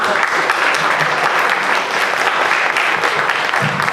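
Sustained applause from a conference audience at the Biblioteca de México, steady and dense clapping throughout with no pauses, fairly loud and close.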